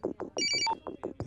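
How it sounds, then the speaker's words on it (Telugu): An incoming call rings out as a short electronic phone ringtone, a bright repeating melodic pattern of chirpy tones played once, close and clear. "మళ్ళీ ఎవరు కాల్ చేస్తున్నారు?"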